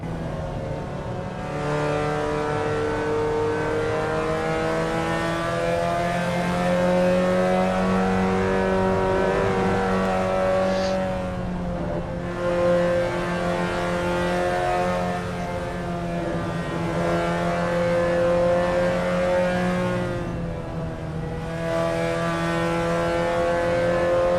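Onboard racing car engine from a racing video game at Suzuka East, droning steadily with rising and falling revs through gear changes and brief lifts, loud and continuous for over twenty seconds with no talk.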